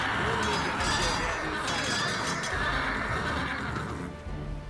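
Horses in the Empire Earth strategy game whinny and neigh amid battle clatter and hoofbeats, with someone talking over the steady busy mix.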